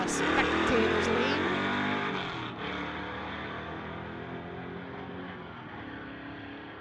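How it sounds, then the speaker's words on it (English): A Ford Mustang drag racing at a street-legal event roars down the strip with a loud engine that fades as it pulls away, under crowd and track noise. "Another Mustang here in the spectators lane."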